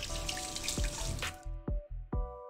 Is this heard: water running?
yes